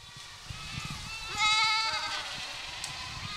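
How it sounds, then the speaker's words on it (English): Spanish goats roaming a waist-high vegetation field in the Mark Twain National Forest, with one clear bleat rising mid-clip over a low, steady outdoor background, moderately near and otherwise quiet. "Dozens of Spanish goats are roaming around a field in the Mark Twain National Forest."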